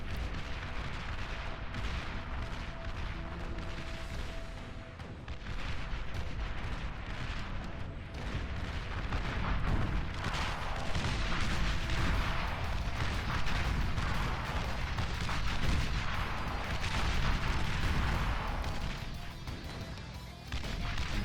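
Long-range artillery fires in the strategy game Beyond All Reason, its heavy booms and explosions rolling one after another inside a thick, continuous roar of battle that lasts the whole stretch.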